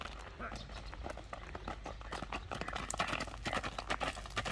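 A horse clip-clops steadily under a rider, hoofbeats close and fairly loud in a busy outdoor setting, with people talking over much of it.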